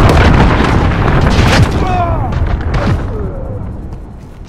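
A cruise missile strike in the video game Modern Warfare, a loud deep booming roar that rolls on and slowly fades, with a few crackling pops inside it.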